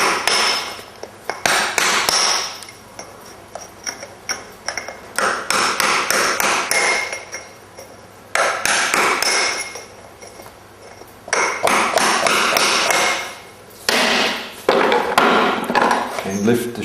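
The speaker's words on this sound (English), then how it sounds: "Now take the shoe off. Unclinch these" A hammer works nail clinches loose on a horseshoe still on the hoof. Loud, close metallic taps come in rapid bursts separated by short pauses over about seventeen seconds.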